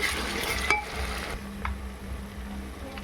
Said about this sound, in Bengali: আদা রসুন একসঙ্গে বাটা ছিল তা আমি দিয়ে দিয়েছি